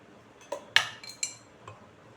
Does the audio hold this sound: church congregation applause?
no